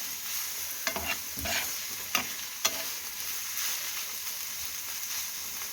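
Vegetables for borscht sizzling in a frying pan while being stirred, a steady hiss with a few scraping clacks of the utensil, close and moderately quiet.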